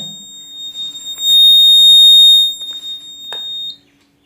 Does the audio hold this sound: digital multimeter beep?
yes